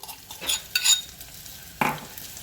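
Crushed gathiya, peanuts and roasted gram masala stirred in a pan over a low gas flame, giving three short scraping bursts close by in a quiet kitchen.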